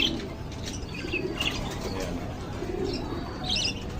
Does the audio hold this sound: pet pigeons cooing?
yes